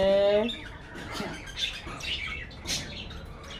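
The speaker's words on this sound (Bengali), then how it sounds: "আর এগুলো আমার সব বাজিগার পাখি।" Pet budgerigars in a colony cage give close, lively chirps and scratchy squawks in quick, uneven bursts, with a brief voice near the start.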